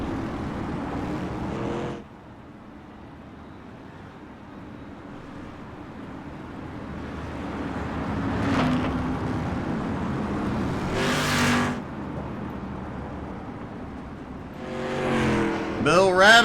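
Street stock race cars circling under caution at North Wilkes speedway, engines droning and swelling as cars pass by, with one loud pass standing out midway and a race commentator talking throughout.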